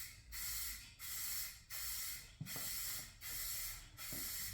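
Spray gun laying a thicker full coat of paint onto a hood scoop for a 2019-or-later GMC Sierra 1500, six long steady hissing passes separated by brief pauses, close and fairly quiet, with no talking.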